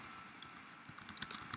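Typing on a computer keyboard while building a Google Slides presentation: soft scattered key clicks, sparse at first and then a quicker burst of taps near the end, fairly faint and close with no talking.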